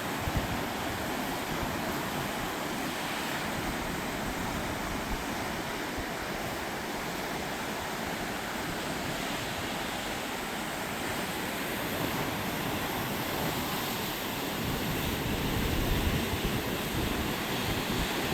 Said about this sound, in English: pretty churned up waves around here